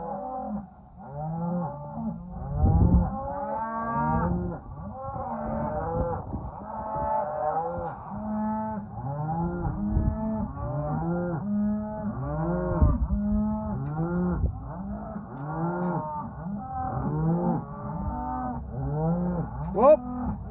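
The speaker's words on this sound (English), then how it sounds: "That's why they're bellowing, is because they want to be at their calf." Cows separated from their calves bellow over and over, a chorus of long, overlapping moos from several animals at once, loud and close, with no talk.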